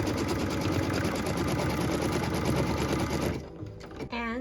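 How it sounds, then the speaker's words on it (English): A sewing machine quilts a small yellow fabric piece, running in a loud, fast, steady rattle close by before slowing and stopping near the end, followed by a brief whirring sound. "we get to quilt this little yellow piece and give it a little bit of something extra"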